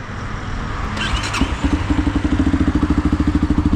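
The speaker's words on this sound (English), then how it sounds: "Just listen to the engine." A Tekken 250 Evo EFI motorcycle engine starts up and settles into a steady, rhythmic idle with a regular pulsing thump, heard close and alone without talk.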